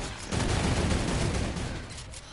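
Sustained video game turret gunfire, a dense rapid burst that swells loud after a brief lead-in and rolls on for about two seconds before tapering slightly.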